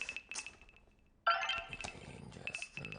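A mobile phone rings in a Telugu film scene, its repeated bright electronic ringtone beeps pulsing steadily, broken by a sudden clattering jolt partway through before the ringing tone continues.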